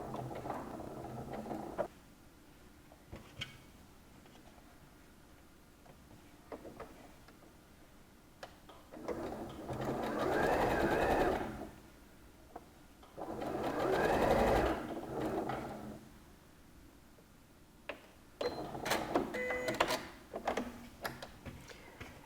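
A domestic sewing machine stitching a seam on a lined sleeveless garment shoulder, running in a few bursts of rapid mechanical ticking with quieter pauses between, close by and without talk.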